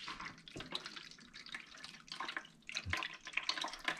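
Grape and apple juice drips and trickles through a strainer, quiet irregular splashes and drops in close succession with brief pauses, no talking.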